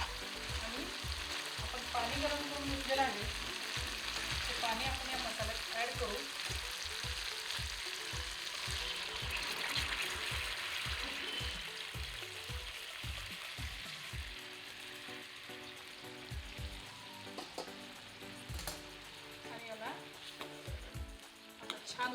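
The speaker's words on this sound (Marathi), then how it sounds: "आपला मसाला आता छान तेलावर फ्राय झाला आहे छान त्याला तेल सुटायला लागलं आहे" Spice masala frying in oil for a spicy dumpling amti, a steady sizzle with rhythmic scraping and clacking of a spoon stirring through the pan, close and continuous, with talking over it.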